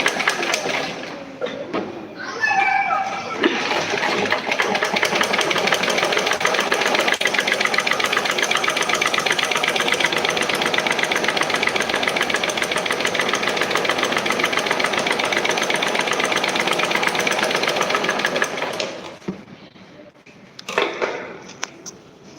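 A sewing machine stitches cloth at a free tailoring class in Trincomalee, running loud and steady for about sixteen seconds before stopping, with a few faint knocks afterward.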